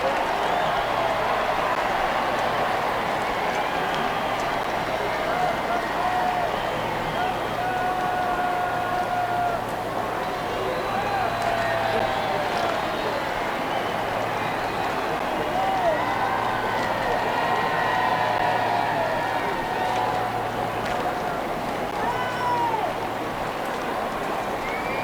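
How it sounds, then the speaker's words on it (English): Archival recording of a large crowd outside St. Paul's, a dense continuous roar of many voices and murmuring, steady and loud throughout with occasional cheers rising from the mass. "Listen to that crowd noise."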